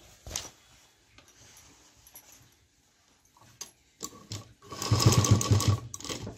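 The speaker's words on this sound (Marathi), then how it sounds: "तर या पद्धतीने पूर्ण स्टिच करून घ्यायचं आहे." A sewing machine stitches fabric for a homemade tiffin lunch bag, running in short bursts with a louder, steadier stretch of stitching near the end.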